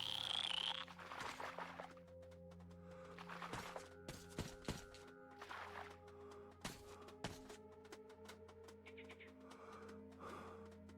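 Toads croak in the video game Metro Exodus with a few close, hollow croaks and a couple of thuds over a faint rumble, in short irregular bursts with no voices.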